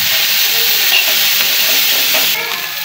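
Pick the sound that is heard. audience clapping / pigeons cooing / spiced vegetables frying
spiced vegetables frying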